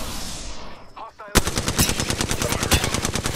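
Loud automatic gunfire in the battle royale shooter Apex Legends, breaking in suddenly after a quieter stretch of game sounds, then a rapid steady stream of close shots continuing to the end.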